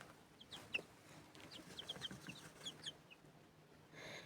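Soft, high peeping and clucking from several young chickens, scattered chirps over a quiet background, fairly faint and close.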